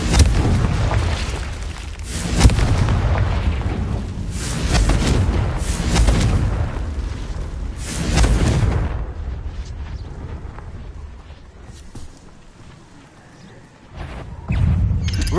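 Booming blasts from the Confringo blasting curse in a Harry Potter game, several heavy explosions rumbling loudly in the first half, then quieter cracks and debris before another burst near the end.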